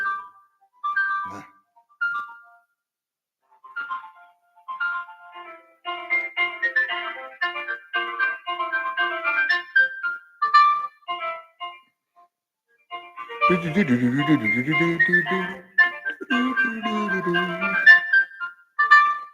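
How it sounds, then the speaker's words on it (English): Tinny piano hold music plays over a phone line from a Ford dealership call, a simple melody of plucked notes that grows fuller with lower chords partway through. "listen to that hold music right there. I didn't know I was going to get the pianos."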